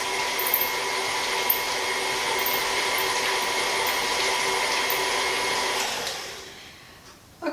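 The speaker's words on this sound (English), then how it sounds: "So we're going to let this run through the mixer until it's a little creamy." An electric kitchen mixer whirs steadily, creaming Earth Balance vegan butter for chocolate chip cookies, a constant mid-level motor hum that winds down and stops near the end.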